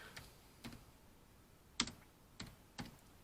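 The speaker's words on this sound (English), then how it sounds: "So let's type it in." Someone types a search on a computer keyboard: about six soft, separate key clicks spaced unevenly over a few seconds, quiet and close, with no talking.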